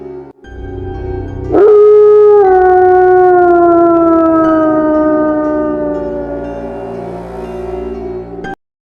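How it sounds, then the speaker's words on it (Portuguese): A lone wolf howls in a long, clear, rising-then-slowly-falling tone that holds for several seconds, close and loud against a quiet background before cutting off abruptly. "Cordiais uivos a todos."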